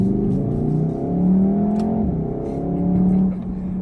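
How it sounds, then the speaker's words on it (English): A 2019 VW Golf R engine pulls hard through a corner, a close, loud rising drone that swells and eases in two surges, heard alone without talk. "you can definitely feel how torquey this engine is and how well it's set up"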